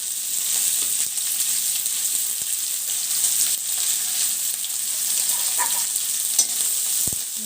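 Onion, curry leaves, ginger-garlic and chili frying in a pan, giving a steady, close, loud hiss of sizzling oil with light stirring scrapes throughout and no voices.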